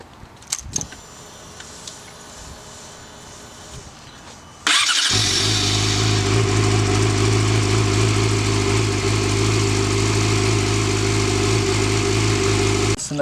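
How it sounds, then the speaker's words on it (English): A 2007 Yamaha R6 sport bike cranks over and catches after a few seconds of quiet shop noise, then settles into a loud, steady, close idle that holds unchanged to the end. "Now I'm gonna run the bike with that for, I don't know, a minute."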